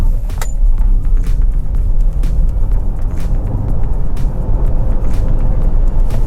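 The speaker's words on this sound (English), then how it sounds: "So now we have an opportunity to test this car 0 to 100 kilometers an hour." A Hyundai Ioniq 5 electric car in sport mode accelerates hard from standstill to 100 km/h, a steady, loud low rumble of road and wind noise building without a break, with faint clicks and no engine note.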